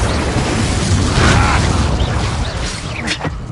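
Loud fiery blast from a Confringo spell in the video game Hogwarts Legacy, a dense rumbling burst with crackling debris and a sharp pop near the end, over a busy game soundscape.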